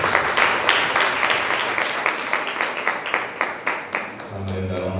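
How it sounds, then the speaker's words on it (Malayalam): An audience applauds the speaker at a career guidance session, with dense, sustained clapping that thins into separate claps toward the end as a voice begins speaking. "ഒരറിവ് നമുക്ക് പകർന്ന സാറിന് നല്ലൊരു ക്ലാപ്പ് കൊടുത്തേ"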